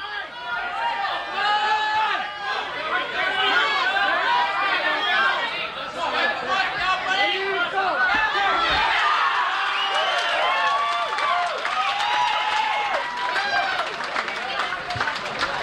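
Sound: crowd cheering at armwrestling event

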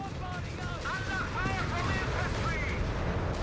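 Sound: mortar fire in video game Company of Heroes 3

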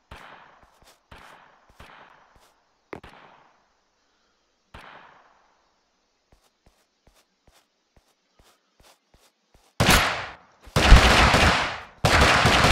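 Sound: gun firing in video game Totally Accurate Battlegrounds

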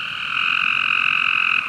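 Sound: frog croaking at night by a pond

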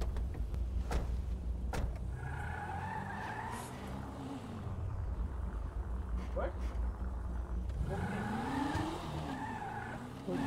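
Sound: car driving in a video game (GTA roleplay)

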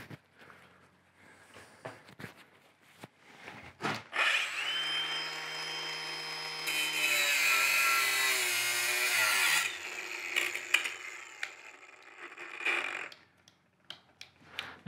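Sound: sawing through a pipe

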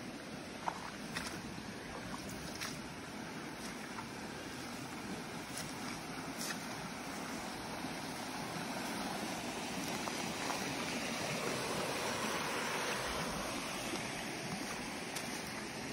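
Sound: floodwater flowing across a road like a river

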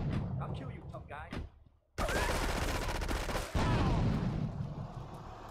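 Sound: grenade explosions and gunfire in video game GTA 3

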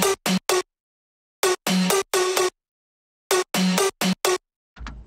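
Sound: main synth lead of the song

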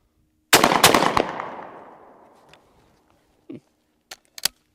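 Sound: Browning Citori Hunter 20 gauge shotgun firing rapid shots

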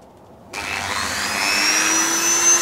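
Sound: Dremel rotary tool on wooden needlefish lure

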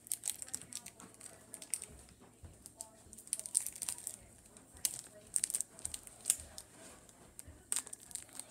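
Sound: cheese being peeled and ripping

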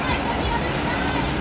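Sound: waterfall in The Narrows, Zion National Park

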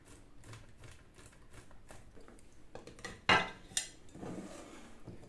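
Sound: grating processed sausage cheese on a coarse grater

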